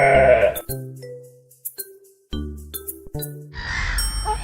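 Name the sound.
sheep bleating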